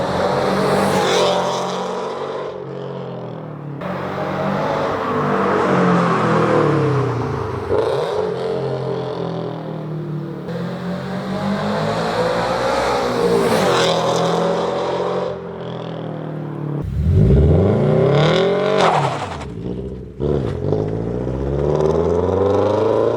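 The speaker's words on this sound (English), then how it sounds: "we're gonna go ahead and get some drive-bys right now" A Toyota GR86/Subaru BRZ fitted with Tomei UEL headers makes several loud drive-bys, its engine revving up and fading as it passes, with rising and falling pitch sweeps and repeated approaches.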